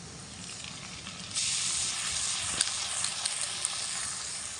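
Spice paste hits hot oil in a pan, bursting into a loud, steady broadband sizzle that swells suddenly partway through and holds, with a few small crackles and pops on top.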